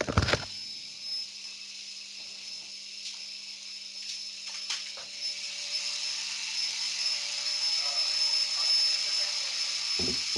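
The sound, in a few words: vacuum cleaner running in the background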